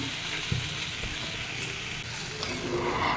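Pumpkin pieces frying in a pan with salt and turmeric, a steady close hiss of sizzling oil with a few faint clinks of stirring.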